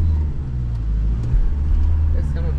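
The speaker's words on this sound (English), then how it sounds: "Just wait for these cars." Cars passing on a sand track on Fraser Island: a close, loud vehicle engine drone and low rumble, shifting in pitch as vehicles pass and rev, with voices talking over it.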